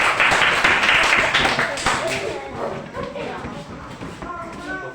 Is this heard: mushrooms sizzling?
no